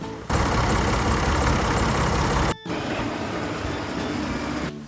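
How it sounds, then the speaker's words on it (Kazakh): A tractor engine runs with a continuous, moderately loud rumbling drone that breaks off briefly in the middle and then carries on at a slightly lower level. "Трактор."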